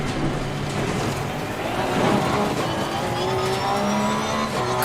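Race car engines from the Assetto Corsa Competizione racing game, a steady loud drone of several cars running close together, with rising whines and brief tire squeal throughout and no talking.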